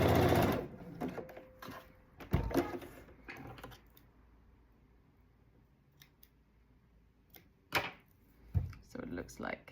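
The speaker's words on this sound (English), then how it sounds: "do a zigzag stitch here as well." A sewing machine runs a zigzag stitch along the folded sleeve edge of a blue mesh flower dress, in short mechanical bursts with quiet gaps between, and a few handling sounds and brief talk alongside.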